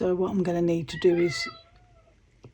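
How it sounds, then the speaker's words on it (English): A house cat meows in the background while a person talks over it, several short tonal cries overlapping the voice, followed by quieter trailing sounds. "that's my cat meowing in the background."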